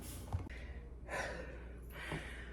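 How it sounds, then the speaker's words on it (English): Heavy, breathy panting after climbing stairs, close to the microphone, several audible breaths in and out in quick succession. "I'm panting because I just decided to go, venture out."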